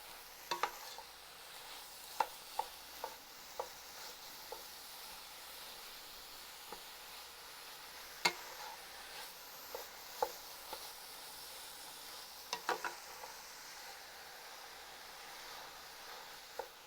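Sausage and ground meat sizzling in a pan for an eggplant casserole, a low steady frying hiss with scattered scraping taps as a spatula breaks up the meat.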